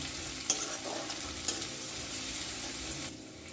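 Grated garlic fries briefly in a pan, a close, steady sizzle with a couple of sharp utensil clinks against the pan, then the frying quiets slightly at the end; no voices.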